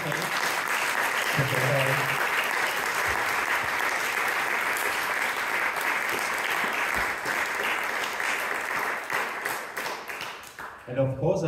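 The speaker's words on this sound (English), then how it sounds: "maybe you can clap a little bit." Conference audience at a global health event applauds the panelists, a sustained, fairly loud mass of clapping that thins near the end as a voice briefly cuts in.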